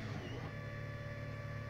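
A 3D printer with a heated metal nozzle at 210 degrees works through a print, giving a steady close mechanical whir with faint stepping tones and a constant motor hum.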